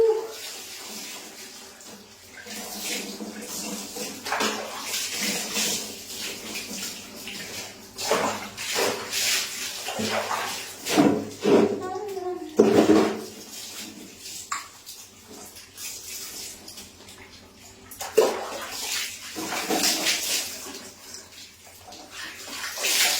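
Water splashes and pours over a body during a bath in hot weather, in uneven bursts of gushing and dripping with a few louder splashes near the middle and end.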